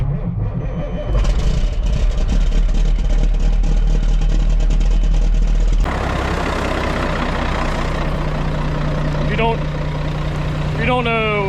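A road tractor with a Caterpillar engine idles loudly and close, a continuous deep rumble that shifts in character partway through, with someone talking over it.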